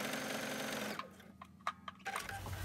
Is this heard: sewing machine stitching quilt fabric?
yes